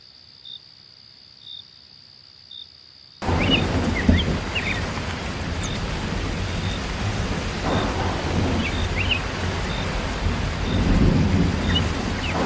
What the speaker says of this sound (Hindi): अरे बहुत जोरों की बारिश हो रही है।